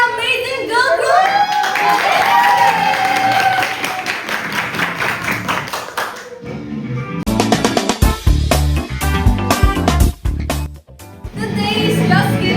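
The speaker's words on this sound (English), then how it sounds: "let's give a big round of applause to our amazing girl group" An audience claps and applauds a girl group at a talk show performance, a scattered burst of hand claps that follows a stretch of sung music and carries on for several seconds.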